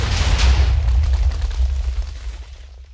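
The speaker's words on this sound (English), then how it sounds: "detonate those tridents because they're already stuck to a block" Tridents blowing up in Minecraft make a loud, booming blast that rolls and rumbles, then fades over about three seconds. No speech.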